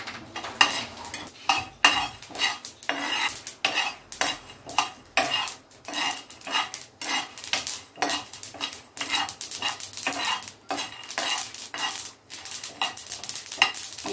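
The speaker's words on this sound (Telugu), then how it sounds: "ఈ దినుసులు వేగిపోయాయి." Peanuts and sesame seeds dry-roasting in a pan for a stuffed brinjal curry, stirred with repeated scraping strokes in a steady rhythm, close and moderately loud, with no talking.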